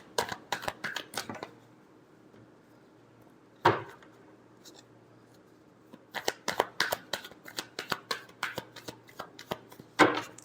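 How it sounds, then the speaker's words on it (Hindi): Tarot cards shuffled close up in quick riffling bursts, a run at the start, a single snap in the middle after a quiet gap, then a longer stretch of rapid flicks to the end. "Last shuffle."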